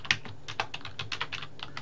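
Typing on a computer keyboard, including a tab key press, as a run of about a dozen crisp, close key clicks in an irregular rhythm.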